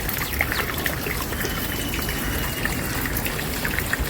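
Water poured onto plants in a rooftop garden makes a steady, close trickling splash that runs unbroken throughout.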